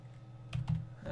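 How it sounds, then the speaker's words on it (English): Keystrokes on a computer keyboard while coding a React tic-tac-toe game: a couple of quick, soft clicks near the end of a quiet stretch, close by, with no voice. "I'm not typing well"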